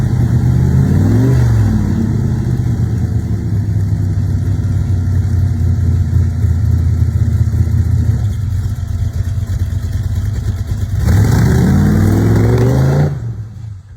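A 1957 Nash Metropolitan gasser with a 383 stroker engine and turbo 350 transmission revs hard and steadily, a loud close rumble that holds for most of the stretch, with a sharp rev rise near the start and another near the end before it drops.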